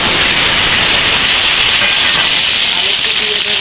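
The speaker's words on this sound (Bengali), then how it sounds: "এবার আমি আলুটা ভেজে নেব।" Cut potatoes fry in hot oil in a wok-like kadai for a home-style country chicken curry, producing a loud, constant, close sizzling hiss that never lets up.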